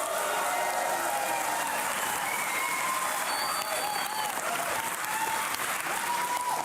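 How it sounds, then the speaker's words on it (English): Full conference audience at a tech event clapping and cheering on cue, a dense, steady roar of applause with scattered shouts and whoops running the whole way through. "I need you all to applaud and scream as much as you can"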